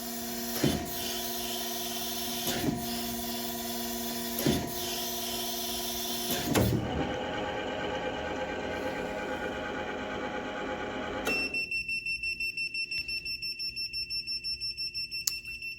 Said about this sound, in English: Now we'll have the 2 spark out passes.